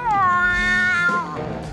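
A cartoon cat, Azrael from the Smurfs, lets out a loud, sustained yowl that wavers and bends in pitch for over a second before breaking into a rougher tail, heard alone without speech.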